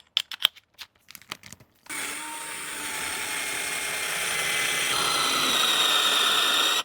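A few sharp mechanical clicks and rattles, then a drill with a countersink bit and depth collar starts and runs steadily, grinding through wood with a rising whine toward the end.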